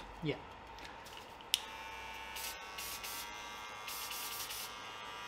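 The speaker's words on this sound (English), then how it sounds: "move your blades back and forward so make sure you know all the uh, oil and spray is goes inside the blades" Short bursts of spray hiss close by as oil and disinfectant go onto hair clipper blades, over a faint steady electrical hum, with a few small clicks and handling noises.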